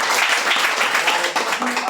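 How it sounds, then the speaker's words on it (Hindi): Audience at a business opportunity meeting applauding a new speaker, a brief continuous wash of clapping with voices mixed in. "सर के लिए एक बार जोरदार ताली"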